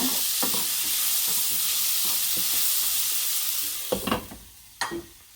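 Steady hissing sizzle of mixed peppers and jalapeno frying in a pan, continuous and fairly close, with a few clinking stirs of a utensil near the end.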